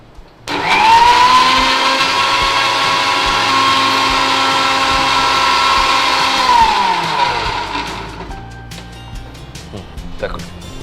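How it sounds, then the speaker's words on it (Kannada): A mixer grinder whirs loud and steady for about seven seconds as it blends vanilla ice cream milkshake, then its motor winds down, leaving faint kitchen clatter. "ಸೊ ಇದಿಷ್ಟನ್ನು ಹಾಕಿ ಗ್ರೈಂಡ್ ಮಾಡ್ಕೊಳ್ಳೋದು"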